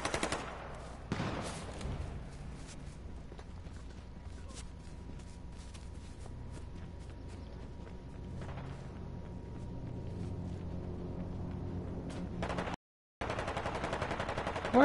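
Gunfire in a video game: scattered shots and short bursts crackle throughout, mixed with game ambience and distant booms, with a brief dropout near the end.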